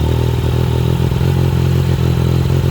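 A Yamaha MT-09 motorcycle engine running steadily just after throttle body synchronization during a 20,000 km service, loud and close with a continuous mechanical drone and light clatter.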